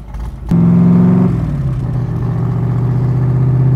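A 1965 Backdraft RT4 roadster engine barks into a loud rev, then settles into a steady, rumbling idle with a lumpy, throbbing beat.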